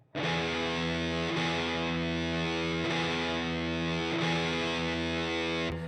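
Electric guitar played through a Siren Pedals Airavata distortion pedal set high, sustaining thick crunchy chords with a dense harmonic buzz, repeated in a steady rhythm for several seconds, loud and alone.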